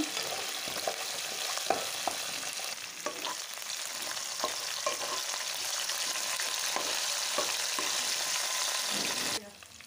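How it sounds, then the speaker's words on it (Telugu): Mint leaves fry in oil over a low flame with a soft, continuous sizzle broken by light spoon taps and stirring knocks, close by and steady until a sudden stop at the end. "పుదీనా, వీటినైతే ఆయిల్లో మంచిగా వేగనియాలి లో ఫ్లేమ్ మీదనే."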